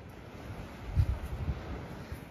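Steady wind buffets an outdoor microphone on a Sardinian seaside coast, a continuous low rushing rumble with gusty swells and faint surf underneath.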